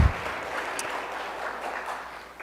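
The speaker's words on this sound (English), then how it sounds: "Please give them a warm round of applause" Congregation applause at a Sunday service at Althea Center, a soft, continuous patter of many hands clapping at a moderate distance.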